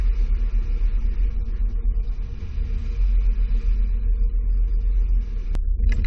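A 2009 Acura with a Swagman XTC2 two-bike rack drives through a slalom on a test course, giving a steady, close engine and road rumble with tire noise throughout and a brief sharp knock near the end.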